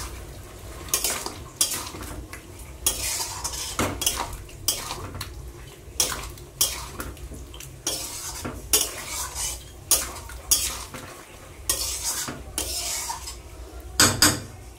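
A spoon scrapes and clanks repeatedly against a cooking pot as food with chili powder and green chilies is stirred, a steady run of close metallic knocks and scraping strokes with no talk.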